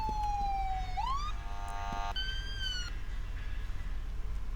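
A video game ambulance siren wails in rising and falling sweeps, then shifts to a steady two-tone pattern, loud against a continuous low background rumble with no talking.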